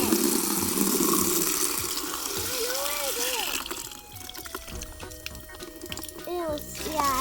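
Tap water runs steadily while a bucket is rinsed at a campsite outdoors, a continuous splashing wash with children's voices talking over it throughout.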